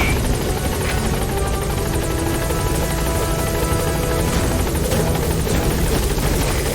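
A helicopter's rotor and engine roar loud and close throughout, a dense continuous thrum as the Pequod transport chopper arrives at the landing zone in Metal Gear Solid.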